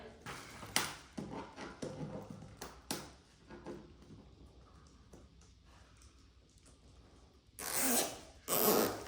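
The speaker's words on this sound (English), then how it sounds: "And then you're just going to pull that zip tie as tight as you possibly can." An extra large plastic zip tie is ratcheted tight on a giant DIY bow, a series of sharp zipping pulls and clicks, followed by two louder rasping bursts near the end.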